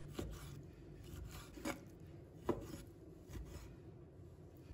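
A knife cuts lean pork into thick slices on a board, with a few soft, separate chopping thuds and scraping strokes spaced irregularly against a quiet background.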